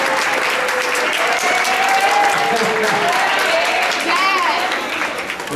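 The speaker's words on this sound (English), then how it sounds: "Let's give them a round of applause, please." Sustained applause from a banquet audience at an athletic awards event, a dense wash of clapping with some whoops and cheers rising over it before fading slightly at the end.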